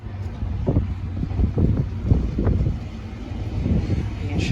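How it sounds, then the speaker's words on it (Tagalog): Strong winter storm wind during a snowstorm in Saskatchewan roars and buffets the microphone in steady gusts, loud and close, with a faint voice briefly audible underneath. "Sobrang lakas ng hangin talaga."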